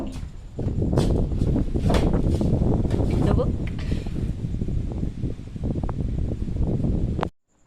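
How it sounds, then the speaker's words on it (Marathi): Strong gusty storm wind roars and buffets steadily for several seconds during rain, rustling and rumbling close by, then cuts off suddenly. "वारा एवढा सुटलाय"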